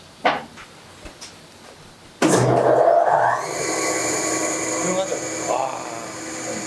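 In a woodworking workshop, a power tool bangs on suddenly after a few quiet clicks and taps, then keeps running with a steady, fairly smooth whine and hum, close by and loud.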